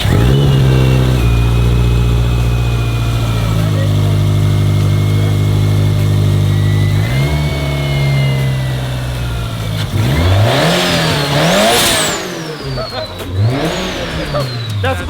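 A person vocally imitates the engine of a turbocharged Subaru Legacy GT, building from a low droning rev into rising and falling whoosh-like pitch sweeps, loud and close, with other voices around.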